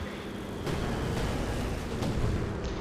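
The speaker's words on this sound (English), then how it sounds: "Double mortars, of course, firing at the British positions." Twin mortars keep firing at British positions during a Company of Heroes 2 match, a steady stream of dense booms and blasts with a few sharper crack-like hits standing out, loud throughout and with no talk.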